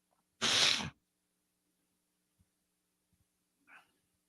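A single sharp, loud sneeze bursts out in a quiet radio studio, followed by a few faint clicks and a brief soft sound moments later.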